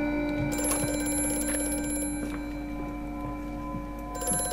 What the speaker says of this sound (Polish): kolejny telefon